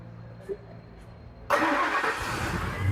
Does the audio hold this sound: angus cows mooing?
no